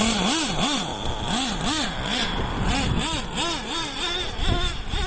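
Traxxas T-Maxx RC truck with a JL Max 28 nitro engine running rich, buzzing loud and close as it revs up and down in quick repeated swells, a rising and falling whine over a rattly idle.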